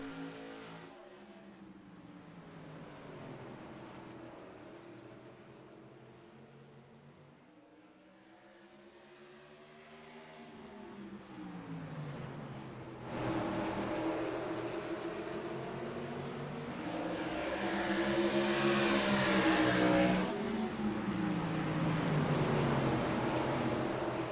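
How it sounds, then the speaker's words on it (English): Tour modified race cars race at Stafford as a pack of loud, roaring engines rises and falls in pitch while passing near and far, swelling louder and more intense partway through with no talking. "Austin DeLong takes the green flag, and we are racing here at Stafford."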